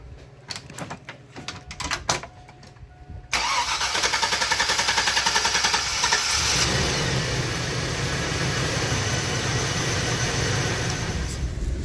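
A 2000–2006 Chevy Suburban after a water pump replacement, with a cylinder misfire, cranks with clicking and short bursts, then catches and settles into a loud, steady idle close by.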